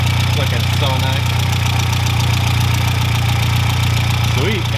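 Big-turbo Audi A4 engine running steadily at idle, a loud continuous low rumble with a slight knocking vibration, close by, with a person briefly talking over it.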